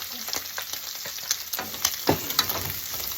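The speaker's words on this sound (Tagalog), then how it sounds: "Igigisa ko na siya sa bawang." Garlic and squid sautéing in a hot pan for Filipino adobong pusit, a busy crackling sizzle with scattered pops and spatters, close and fairly loud throughout.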